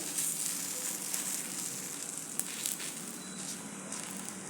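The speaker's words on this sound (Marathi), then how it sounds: "याला मीडियम गॅसवरती थोडंसं भाजून घेऊया व्यवस्थित" Wheat flour batter with mixed vegetables sizzles softly in a pan over a medium gas flame, a faint, steady crackling hiss with a few small pops and no talking.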